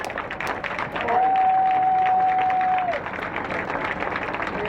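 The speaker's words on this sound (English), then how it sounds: "Bring him on with a big round of applause." Crowd applauds at a Hollywood Walk of Fame ceremony for John Singleton, an outdoor mass of clapping and cheering with a long sustained tone running through the middle.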